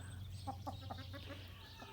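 Amrox hens cluck in a barn shared with geese, a quick run of soft repeated clucks over a steady low hum, faint and close.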